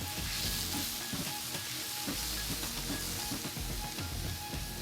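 Vegetables stir-frying for yaki udon, a loud, dense sizzle with repeated tossing and stirring scrapes close up throughout, no talking.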